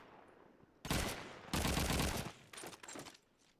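Gunfire in Call of Duty 2 during a competitive online match: two loud sustained bursts of rapid shots, then a shorter, quieter volley, close and with no talk over them.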